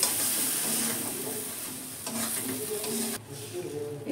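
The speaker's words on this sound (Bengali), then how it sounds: "গ্যাসটা লো করে ডালটা শুকনো করে নিতে হবে মশলার সঙ্গে, এবার পেঁয়াজের সঙ্গে।" Red lentil (masoor dal) filling being dry-stirred in a pan over low heat with spices and onion, a steady sizzle with repeated scraping strokes of a spoon, close and fairly quiet, no talking.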